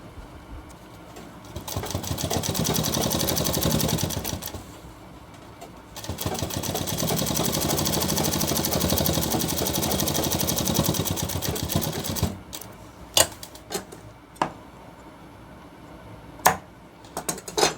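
A sewing machine stitches around the corner of a shirt cuff in two sustained, loud, close runs of rapid whirring separated by a brief pause, followed by quieter scattered clicks and thumps of handling.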